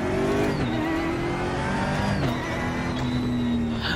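A racing video game car engine revs and accelerates hard, loud and continuous, its pitch climbing and shifting through gears with faint tire squeal and other cars' whine layered in.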